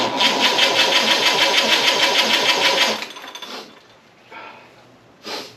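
An Opel engine on choke cranks and runs with a fast, even pulsing chug for about three seconds, then cuts out, followed by a couple of faint, brief sputters.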